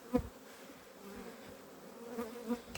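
Honeybees buzz steadily at an apiary while frames of honey are being inspected, a close, continuous drone with a few louder passes as individual bees fly near.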